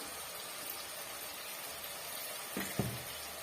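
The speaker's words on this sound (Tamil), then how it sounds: "இந்த பச்சை வடை போகிற வரைக்கும் ஒரு நிமிஷத்துக்கு வதக்கி விட்டுக்குங்க" Chilli powder and coriander powder sauté in oil in a pan for a potato egg gravy, giving a soft, steady sizzling hiss with a few faint stirring knocks near the end.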